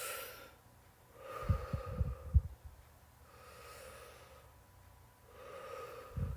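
Slow, deep breaths from a calming finger-breathing exercise: soft, airy inhales and exhales repeat in a steady rhythm, with faint huffs and bumps in between.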